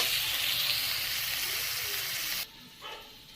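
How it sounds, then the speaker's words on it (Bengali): Onions frying in hot oil give a loud, steady, close hiss that cuts off abruptly near the end, leaving quieter background sound. "পেঁয়াজটা আমি লাল লাল করে ভেজে নেব"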